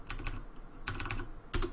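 Computer keyboard typing a command, three short clusters of quick keystrokes, close and fairly quiet, with no talk.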